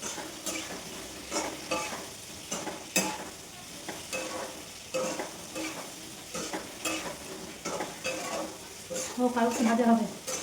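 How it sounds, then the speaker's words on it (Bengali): Spices frying in a pan for a vegetarian dish without onion or garlic, with a spoon stirring in regular close strokes over a continuous sizzle and a brief murmur of voice near the end. "একটু লাল লাল করে ভাজতে হবে।"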